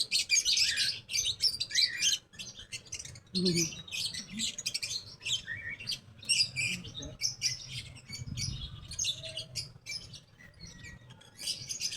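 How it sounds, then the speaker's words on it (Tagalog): Many small birds chirp and tweet in dense, overlapping bursts close by, with people talking quietly underneath. "Daming ibon."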